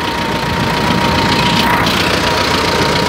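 Soviet T-40 tractor engine idling steadily after an engine rebuild, a loud continuous diesel rumble with a mechanical knock throughout and no pauses.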